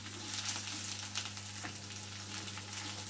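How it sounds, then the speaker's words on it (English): Tuna with chillies and spring onions frying in a pan, a constant close sizzle with a few soft stirring scrapes, with no talking. "Fry off for another 3-4 minutes."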